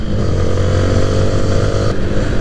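Motorcycle engine held at a steady, moderate throttle on a ride, a continuous loud drone with a constant pitch throughout and no talk over it.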